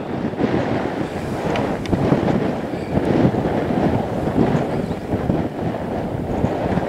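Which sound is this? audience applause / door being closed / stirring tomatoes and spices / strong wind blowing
strong wind blowing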